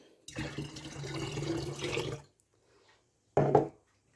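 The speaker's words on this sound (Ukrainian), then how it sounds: "І виливаю також цю воду з цукром, це сироп, у вино" Sugar syrup made with warm water is poured into homemade currant wine, giving a steady liquid splashing and gurgling for about two seconds, then a short second pour after a brief pause, close and fairly quiet.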